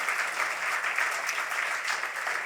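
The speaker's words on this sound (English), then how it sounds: "that's a big round of applause" Crowd applause at a literary awards gala for the winners, a continuous even patter of many hands clapping at moderate distance with no voices over it.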